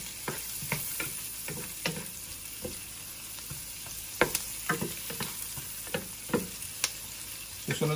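Onion and garlic frying in a pan, a steady close sizzle with scattered sharp pops and crackles throughout, and no voices over it.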